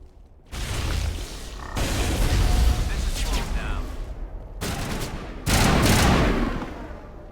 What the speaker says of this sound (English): I hate the fact that his gun is 3-round burst.